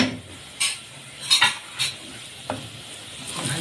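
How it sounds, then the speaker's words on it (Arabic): Garlic frying in a pot while being stirred with a spoon, giving a soft sizzle with a few scraping stirs and light clinks, close and fairly quiet. "هننزل عليها بمعلقة توم كده"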